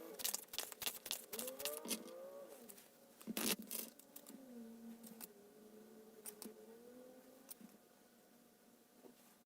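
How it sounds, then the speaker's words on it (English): Tarot cards being shuffled by hand, a run of quick crisp riffling and slapping bursts early on, then sparser soft card snaps over a steady quiet room tone, close and fairly faint. "I'm going to shuffle some more cards"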